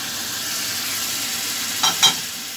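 Marinated chicken sizzling as it fries in a pan, a steady loud hiss with two short bursts of stirring or spattering near the end.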